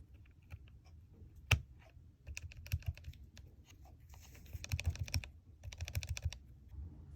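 Typing on a Keychron K6 Pro keyboard fitted with Gateron Milky Yellow Pro switches lubed with Krytox 205g0, close, soft thocky keystrokes in irregular bursts with a sharper single clack near the start.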